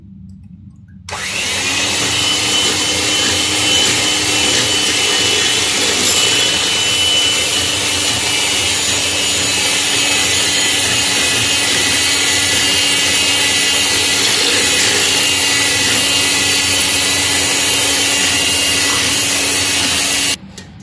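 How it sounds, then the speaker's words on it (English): An electric mixer creams butter, sugar and egg for chocolate lava cakes, running loud and steady with a whirring motor hum that starts abruptly, holds for about twenty seconds, then cuts off. "It's a lot of mixing noise."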